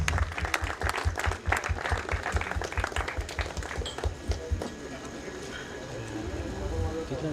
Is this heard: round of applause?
yes